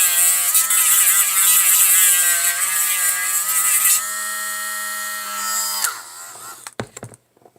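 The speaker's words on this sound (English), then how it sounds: "I just use a Dremel because I'm lazy and I have one." A Dremel rotary tool sands the base of an ork boy miniature, with a close, high-pitched buzzing whine that shifts pitch as it bears down, then spins down and stops in a few clicks.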